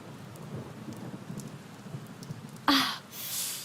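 Steady rain falls throughout, joined near the end by a sharp crack of thunder and a rolling rumble that swells loudly before fading.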